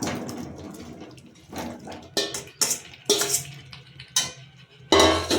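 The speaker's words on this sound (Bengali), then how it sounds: "এবার আমি এর মধ্যে দিয়ে দেব ভাজা কুমড়ো আর আলুটা" Fried pumpkin and potato pieces go into a pan of cooked spices, giving uneven bursts of hissing sizzle and clattering as batches drop in, loudest near the end, with no talking.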